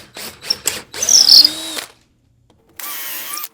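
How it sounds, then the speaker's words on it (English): Power drill boring out a hole in a walnut woodworking piece, with short bursts then a sustained whining run and a final brief burst after a pause, loud and close. "And go ahead and drill this out."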